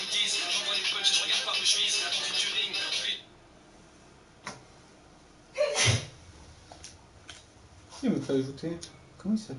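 One loud, close sneeze bursts out midway, after a stretch of noisy background and before some sharp breaths and mouth sounds.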